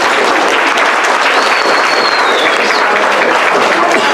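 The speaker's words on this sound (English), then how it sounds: "Let's hear a nice round of applause for all of you." A crowd at a Menudo Club gathering at Mamacita's restaurant in northwest Houston claps loudly and continuously, a dense close roar of applause filling the whole stretch.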